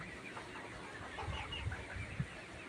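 Soft clucking from a flock of 100-day-old layer pullets, several low intermittent calls over a murmuring barn background, moderately close and fairly quiet.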